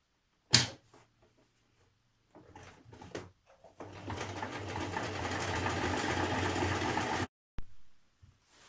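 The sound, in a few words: sewing machine stitching a buttonhole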